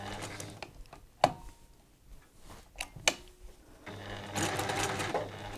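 A sewing machine set to a 1.8 straight stitch sews a quilt seam through fabric, with a few short mechanical clicks and bursts early on, then a steady continuous whirring run near the end.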